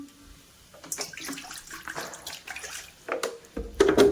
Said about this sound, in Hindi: और मैं यह पानी ले रही हूँ।